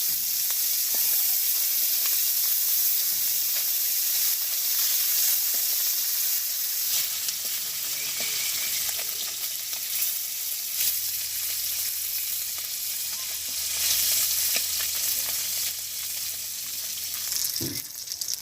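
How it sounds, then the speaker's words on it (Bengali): Steady, dense sizzling of khalisha fish frying in hot oil, loud and close throughout, with a few soft clinks near the end. "তো বন্ধুরা, আমার খলসা মাছটা ভাজি হয়ে গেছে"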